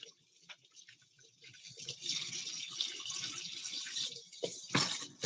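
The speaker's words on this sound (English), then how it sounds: "Got to turn on the hot water." Hot water running from a tap while hands are washed under it, a steady, fairly quiet splashing stream with a few louder gushes near the end.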